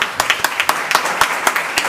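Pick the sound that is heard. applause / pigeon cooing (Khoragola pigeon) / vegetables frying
applause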